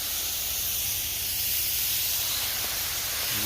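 Venison sizzling on a small skillet, a steady loud hiss of frying that holds unbroken throughout with no talking.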